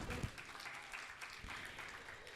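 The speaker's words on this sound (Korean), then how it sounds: "여러분 박수로 함께해 주십시오" Sustained applause from a crowd at an award presentation during an anniversary ceremony, steady clapping filling the room for a couple of seconds with no pause.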